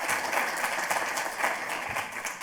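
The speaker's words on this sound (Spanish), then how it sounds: "Un aplauso" Steady, dense applause from a seminar audience welcoming a speaker, a continuous wash of many hands clapping at fairly even loudness from start to finish, heard alone without speech.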